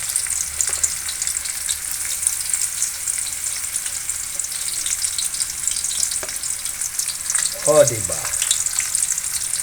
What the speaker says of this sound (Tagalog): Pagsabayin ng bawang at saka sibuyas para isahan na lang.